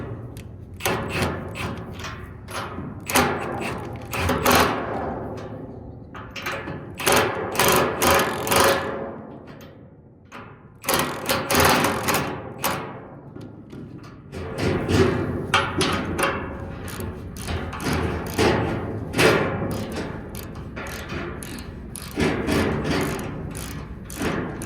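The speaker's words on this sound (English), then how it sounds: "The reason I'm using the ratchet wrench is because I only have a 3/4 inch deep and a 3/8 socket." Ratchet wrench with a 3/4 inch deep socket on a tiny house trailer axle, repeated bursts of fast clicking ratcheting strokes separated by short pauses, close and fairly loud, with no talking.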